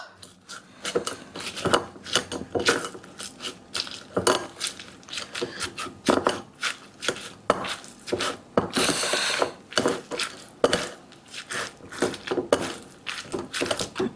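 Irregular scraping and clinking of a utensil mashing fresh tamarind against a metal strainer over a bowl, repeated strokes in an uneven rhythm, close by.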